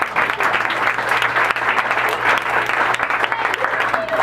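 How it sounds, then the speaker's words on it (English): Applause from a student audience at a school leadership assembly, a dense, steady burst of clapping lasting several seconds with a faint hum underneath and no talking. "let's clap that up"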